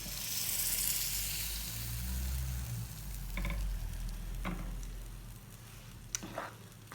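Aubergine parmigiana, just out of the oven, sizzles and bubbles in its hot dish, a soft steady fizz close by with a few faint clinks, no speech.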